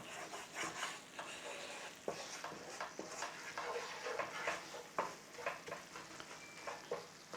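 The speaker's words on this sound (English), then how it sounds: "I was taught to bloom out the spices in the oil. So that's what I'm doing." Whole spices bloom in hot oil for a Punjabi chicken masala: a soft, steady sizzle with intermittent crackles and spits, fairly quiet and close, with no voices over it.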